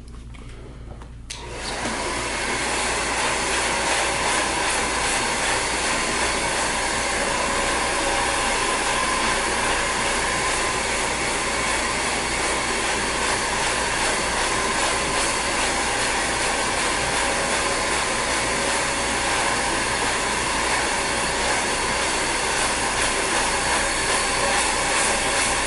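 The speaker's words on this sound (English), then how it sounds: "we're gonna go with the grain of the hair, with the blow dryer" A hair dryer on medium heat and high airflow roars steadily and loudly from start to finish after a brief quieter moment, a constant broadband whoosh of blowing air up close during a haircut.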